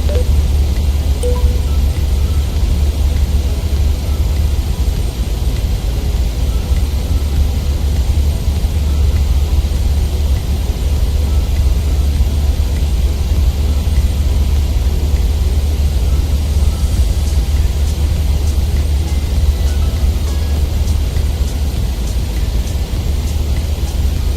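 Steady, loud engine drone and rumble of a Boeing 737-800 BBJ2 on approach to land on runway 08 in a flight simulator, a continuous low roar with airflow hiss that holds unchanged throughout.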